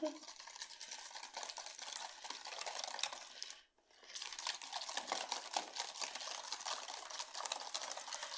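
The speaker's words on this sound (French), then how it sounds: "Alors j'ai mis les œufs et le sucre que je mélange." Eggs and sugar being whisked together by hand for pastry cream, a steady scraping, rattling patter with a brief pause midway, close and continuous without talk.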